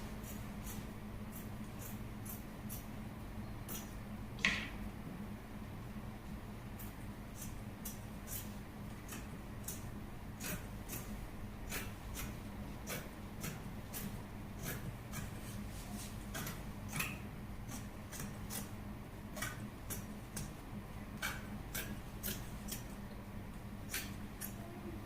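Scissors snip through dress fabric along a zipper line, a long run of faint, crisp clicks spaced irregularly against a quiet room hum.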